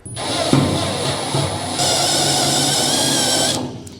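A drill bores a circle through the layered steel panel of a Ford Cortina, whining steadily up close. It starts with a few bumps, then settles into a louder, harsher grinding pitch before it cuts off.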